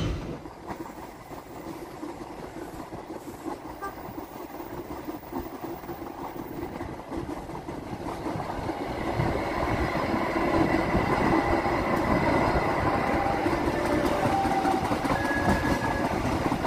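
Dharmawangsa passenger train running at about 90 km/h, heard from inside as a continuous rumbling rattle of wheels and carriages that swells louder partway through and stays steady.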